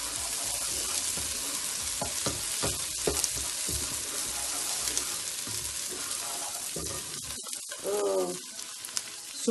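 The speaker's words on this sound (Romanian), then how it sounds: "adăugăm și usturoiul și un pic de pătrunjel, că tocmai l-am tăiat, l-am făcat. Mai călim puțin." Garlic and chopped parsley sautéing in a pan for a fish head and tail soup, with a dense continuous close sizzle, scattered stirring clicks and a brief louder hiss near the end.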